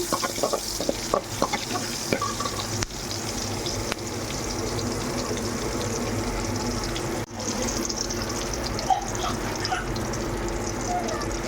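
Cumin, chana dal and onions fry in a pan. A steady close sizzle runs under occasional clinks and scrapes of stirring, and a voice talks in the background at times.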